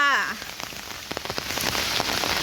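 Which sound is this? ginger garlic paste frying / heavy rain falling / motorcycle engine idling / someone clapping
heavy rain falling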